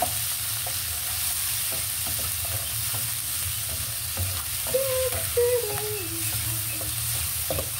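Tomatoes sauté in a pan for ginisang sitaw, a continuous close sizzle with light stirring clicks, and a brief tonal squeak or murmur midway.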